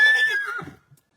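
A young Knabstrupper gelding gives one loud, close whinny that trembles and fades over about a second, then goes quiet apart from a soft snort at the end.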